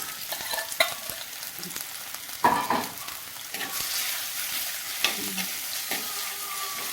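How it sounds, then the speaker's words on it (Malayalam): Crushed shallots sautéing in hot coconut oil for a homestyle ivy gourd stir-fry, a continuous close sizzle with occasional spatula scrapes and knocks against the pan, no voices. "നമ്മുടെ ചോന്നുള്ളി ഇടിച്ച് വെച്ചതും കൂടി ഇട്ട് നല്ലോണം ഒന്ന് വഴറ്റിയെടുക്കണം"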